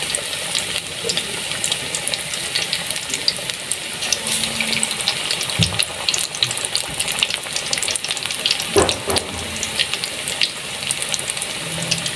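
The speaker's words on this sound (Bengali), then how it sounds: "এভাবে আমি সব বেগুনিগুলো ভেজে নেব" Eggplant fritters (beguni) deep fry in oil with a loud, busy bubbling sizzle full of crackles and pops, close and continuous for the whole stretch, with occasional stirring and no talking.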